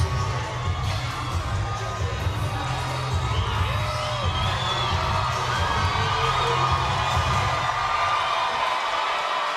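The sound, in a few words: boxing arena crowd cheering and reacting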